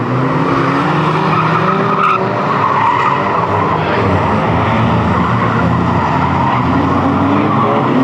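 Race car in a trailer race at a raceway spins and skids, a continuous loud roar of engines and tire scrub across the whole stretch, dense and steady with no clear break and no talking.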